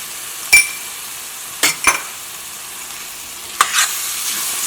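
Steady sizzling of chicken curry frying in a pan, broken by a few sharp scraping stirs of a utensil against the metal.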